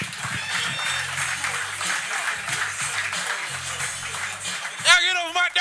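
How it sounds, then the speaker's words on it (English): A comedy club audience at a roast battle applauds steadily throughout, a sustained bed of clapping with music and voices over it and a louder shout near the end. "Go ahead, start clapping"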